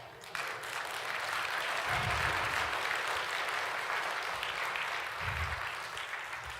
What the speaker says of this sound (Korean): 박수 좀 올리시면 좋겠습니다.